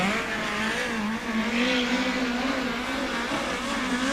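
A USAC midget race car on a qualifying lap at Ventura Raceway: a steady, buzzing engine note that rises and falls through the turns, heard at moderate distance with no one talking.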